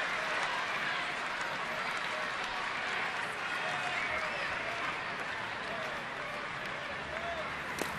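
Crowd at a baseball stadium in the bottom of the 8th inning, a broad, continuous roar of clapping and cheering heard from a distance, steady throughout, with faint crowd chatter mixed in.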